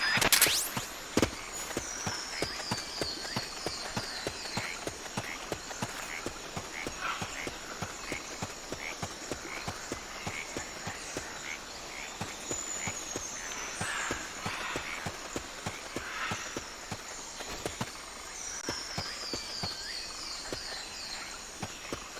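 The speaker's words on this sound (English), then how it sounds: "I just heard footsteps." Quick, irregular footstep taps in Metal Gear Solid: Peace Walker repeat steadily throughout, set over a busy layer of chirping, croaking ambience with occasional high whistling sweeps.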